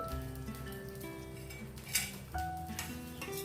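Rice flour batter spread across an oiled hot griddle over a high gas flame sizzles steadily, with a few faint clinks of a utensil partway through.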